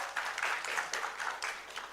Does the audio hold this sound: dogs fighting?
no